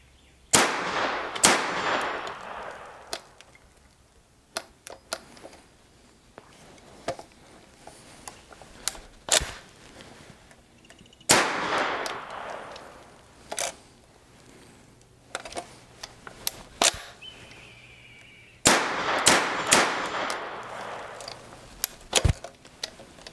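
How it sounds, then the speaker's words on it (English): A Thompson 1927 A1 Tommy Gun fired from the hip outdoors: three separate bursts of sharp rapid shots with echoing reports, spaced apart, along with scattered single clicks and mechanical handling noises between them. "Take it off safe and give it a few hip shots from here."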